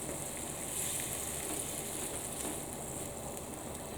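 Jambalaya rice mixture stirred in a pan in a school kitchen, giving off a steady close sizzle and frying hiss that runs unbroken for the whole stretch, with no talking over it.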